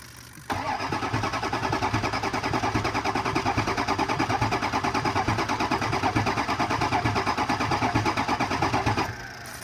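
A car engine cranks steadily with a fast rhythmic starter chug that runs loud and unbroken for about nine seconds without catching, during a crank no-start repair, then cuts off.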